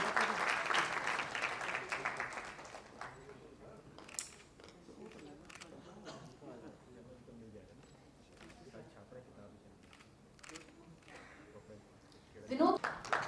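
Audience applause at an achievers' conference, dense clapping strongest at the start and thinning over several seconds, with talk and stray noises mixed in and a brief burst near the end.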